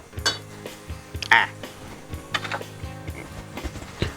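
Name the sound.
tossing spaghetti noodles in a pan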